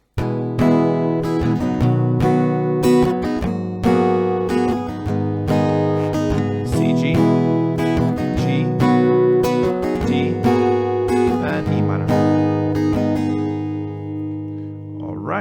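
Steady acoustic guitar strumming cycles through a chord progression, with rhythmic downstrokes and upstrokes repeating for several bars before the final chord rings out.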